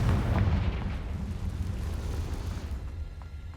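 A Confringo blasting spell explodes in Hogwarts Legacy, a deep booming burst that rumbles loudly at first and then decays into a sustained low roar.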